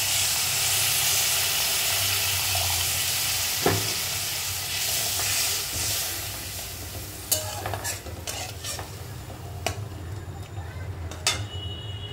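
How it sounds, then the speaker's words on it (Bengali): Steady sizzling and hissing as a little water is added to frying spice paste for a puti fish curry, with occasional stirring clinks and scrapes near the end. "এবার এর মধ্যে আমি সামান্য একটু জল দিয়ে দেবো"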